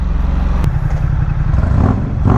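A Suzuki dirt bike engine revs loudly and steadily up close, a continuous low motor roar with rising throttle surges near the end, heard on a Sacramento street.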